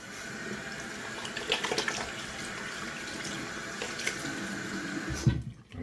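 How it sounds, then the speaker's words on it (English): Tap water runs into a bathroom sink while a hand is rinsed under it, a close, continuous splashing that cuts off near the end. "rinse my hand."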